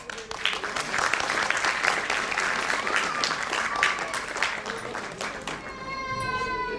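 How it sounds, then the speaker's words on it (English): An audience at a school annual day applauds loudly and steadily for several seconds, with a brief high voice near the end. "Please welcome her with a huge round of applause."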